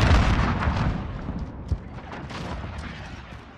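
Grenade blasts and heavy gunfire in the Call of Duty Modern Warfare beta, a loud rumbling burst at the start that fades into scattered booms and crackling shots, no talk.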